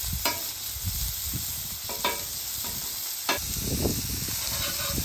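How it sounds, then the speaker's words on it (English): Ribeye steak sizzles in rendered fat on a flat top griddle, a steady close frying hiss broken by a few sharp crackles and scraping clicks, with no one talking. "I'm gonna take the ribeye steak right in that fat, get it out thin."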